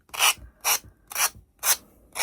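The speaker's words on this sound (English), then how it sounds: "All I'm doing is going around the star with the finger sander." Finger sander working around the edges of a small wooden star for a patriotic pinwheel, five short rasping passes in a steady rhythm with brief pauses between, close and moderately loud, no talk.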